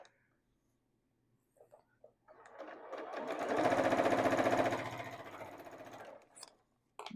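Sewing machine stitching quilt pieces for a maple leaf table topper: a few short taps, then a steady whirring run that speeds up and slows down over several seconds before stopping, close and fairly quiet.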